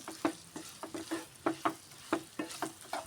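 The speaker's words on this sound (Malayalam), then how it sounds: "നമ്മൾ പൊരിച്ച് വെച്ചിട്ടുണ്ടായിരുന്ന മാങ്ങ ഇട്ടിട്ടോ നന്നായി ഇളക്കി കൊടുക്കുക." Fried mango pieces stirred in a pan while making pickle, a quick series of roughly a dozen close scraping and sizzling strokes in an uneven rhythm, each stroke distinct against a soft background hiss.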